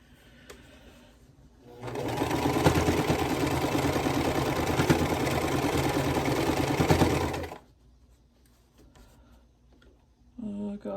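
A sewing machine stitches a thick quilt seam in one continuous run of about five and a half seconds, loud and close with a steady mechanical chatter, bracketed by quiet moments.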